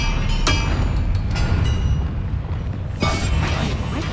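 Confringo blasting spell explosions in the Hogwarts Legacy video game, two sharp booming blasts about three seconds apart with rumbling low-end tails, loud and close over dense game ambience.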